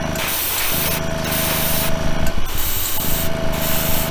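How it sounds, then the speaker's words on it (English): An airbrush sprays Spaz Stix color shift paint in tack coats onto a model body, a continuous close hiss broken into short bursts with brief pauses between passes, loud and alone without talk. "Put it on a little thicker now. We have our tack coats."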